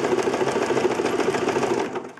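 A sewing machine top stitches a lined zipper bag, its needle hammering in a fast, steady, close mechanical chatter that runs evenly and alone before easing off at the very end.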